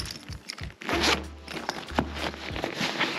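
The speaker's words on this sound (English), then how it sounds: "if we go on to the back of the bag and open this zipper right here" A zipper on the back of a fishing backpack is pulled open in a few quick, close raspy strokes, with no talking.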